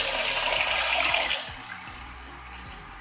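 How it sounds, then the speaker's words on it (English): Used rice-washing water pouring into a pot of Korean dried pollack soup, a rushing liquid splash for about a second and a half that tapers off into quieter dribbles and small drips. "this is rice water. So this is like a used water from washing rice. So you can pour it."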